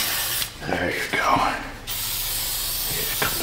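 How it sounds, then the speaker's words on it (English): Short bursts of hissing spray from a two-way aerosol can onto a Dodge Avenger's bad wheel bearing, close and loud, with someone talking over the first burst and steady hiss continuing after. "Boom, she sprays two ways"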